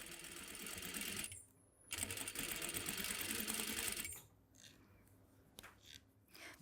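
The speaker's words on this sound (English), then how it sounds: "Look, I'll stitch a bit," A sewing machine stitches a collar onto the neckline of a white linen shirt, running in steady, fast-rattling stretches that stop briefly and then resume with shorter, softer bursts.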